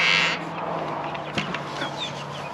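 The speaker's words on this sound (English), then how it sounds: "These are our McMurray big red broilers." McMurray big red broiler meat chickens on a homestead give soft, scattered clucks and chirps, fairly faint, over steady outdoor background noise.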